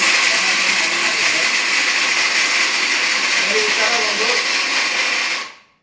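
A mixer grinder grinds peanuts with a loud, steady, close whirring roar that runs evenly before cutting off abruptly at the end.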